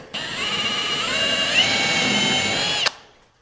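A power drill whirs steadily into a wooden board held in a pocket hole jig for almost three seconds, rising slightly in pitch, then cuts off abruptly.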